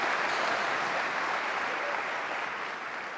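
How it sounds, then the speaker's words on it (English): An audience at a snooker final, the World Grand Prix, breaks into warm applause, a dense, even clatter of many hands that starts full and slowly fades, with no talk over it. "And can you hear the applause?"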